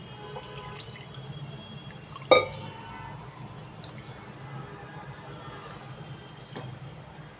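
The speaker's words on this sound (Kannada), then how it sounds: "ಈಗ ಇದಕ್ಕೆ ಸ್ವಲ್ಪ ನಾವು ನೀರನ್ನು ಹಾಕ್ಕೊಳ್ಳೋಣ" Water poured into a spinach (palak) gojju mixture while cooking, a faint, steady trickle with one sharp knock early on and no talking.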